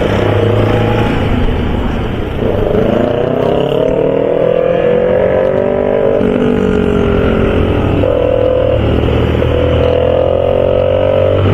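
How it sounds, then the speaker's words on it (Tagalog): A loud motorcycle engine roars steadily, its pitch rising and falling as it revs and pulls away, dominating the whole stretch. "Ganda ng tunog ng motor na yun guys oh."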